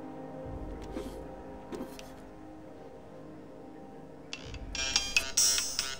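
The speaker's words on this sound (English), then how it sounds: "I hate when my phone rings" Phone ringing in The Outer Worlds, a bright electronic ringtone that chirps in repeated short bursts near the end, over low ambient game hum and a few scattered clicks.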